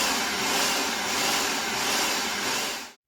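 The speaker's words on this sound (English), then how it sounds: "Maybe we'll try the pulse to chop again, Josh." Food processor running in pulse mode, chopping cream as it churns into homemade butter; a dense, steady whirring motor noise fills the few seconds, loud and close, then cuts off abruptly at the end.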